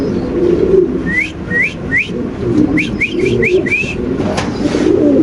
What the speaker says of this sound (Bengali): এটা নর এটা মাদি দুটা কবুতর